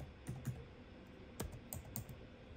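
Quick keystrokes on a computer keyboard enter a device password during setup in the Hik-Partner PRO app, a few sparse, close clicks spread irregularly over a quiet background.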